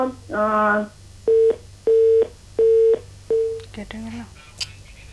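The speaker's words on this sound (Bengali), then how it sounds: "ফোনটা মনে হয় কেটে গেল।" A brief voice, then four evenly spaced electronic phone tones beep one after another, followed by a few faint clicks and noises on the line.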